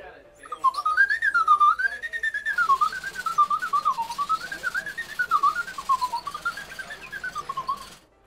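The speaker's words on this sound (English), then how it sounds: "Cat and canary flute." A cat and canary flute whistle toy from a toy store gives a loud, continuous warbling whistle that wavers steadily up and down in pitch for about eight seconds, with no talking.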